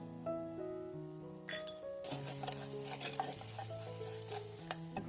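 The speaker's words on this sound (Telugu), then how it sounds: "ఇది కూడా ఆయిల్లోనే వేసి వేయించుకుంటున్నాను" Chili powder frying in oil with chopped onion and salt, a gentle sizzle and busy stirring scrapes beginning partway through, mixed with steady background music.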